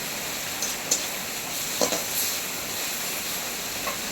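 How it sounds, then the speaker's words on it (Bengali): A spice paste for a mustard bhola fish curry fries and is stirred in a pan, giving a continuous close sizzle with a few soft scraping knocks of the spoon scattered through it. "মশলা তো খুব ভালোভাবে কষানো হয়ে গিয়েছে আর মশলার সব কাঁচা গন্ধ চলে গিয়েছে"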